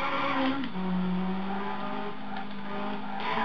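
A Ferrari racing car engine from the Ferrari Challenge game on PS3 whines steadily at high revs, with a quick drop in pitch at a gear change before the note climbs and holds again.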